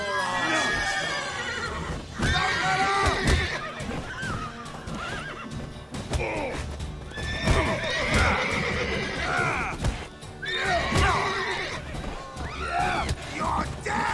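Horses in The Witcher 3: Wild Hunt whinny loudly several times over the clip-clop of hooves, with shouting game voices mixed in.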